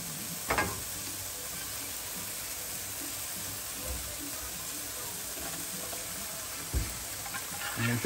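Sardines in oil sizzle steadily in a pan with garlic, as a base for tomato-sauce rice, and a few stirring knocks and clinks break through the low frying hiss.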